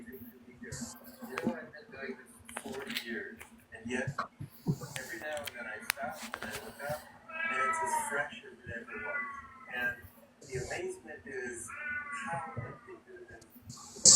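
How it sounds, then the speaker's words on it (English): A male cat meowing repeatedly, with a string of drawn-out, wavering meows and yowls close by, mixed with background noises and a steady low hum. "Oh, I hear a kitty."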